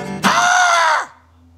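A person imitates a mynah bird call with one loud, strained, shrieking vocal cry lasting under a second, which cuts off abruptly into near silence.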